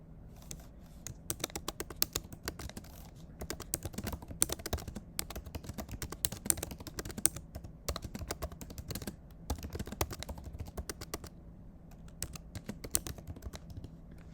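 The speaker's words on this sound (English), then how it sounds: "And I type in my message." Steady typing on a computer keyboard, a dense run of quick key clicks continuing nearly throughout with brief pauses, close and moderately quiet, with no voices.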